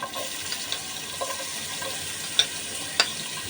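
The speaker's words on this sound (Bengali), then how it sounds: "এই যে আমি পেঁয়াজ কুচিগুলো এখন এই তেলের মধ্যেই দিয়ে দিব" Chopped onions frying in oil for chingri malaikari, with prawns just lifted out of the pan: a steady soft hiss of frying with a few faint clicks and light utensil taps.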